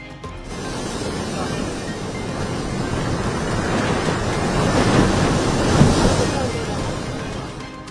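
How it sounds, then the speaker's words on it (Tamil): Rough, churning sea surf at Kasimedu, Chennai, a loud continuous wash of breaking waves with steady roar swelling slightly midway, wind buffeting throughout and no talk. "சென்னை காசிமேட்டில் கொந்தளிப்புடன் காணப்பட்ட கடல்"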